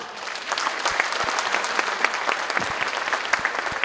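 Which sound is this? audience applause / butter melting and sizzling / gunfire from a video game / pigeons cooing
audience applause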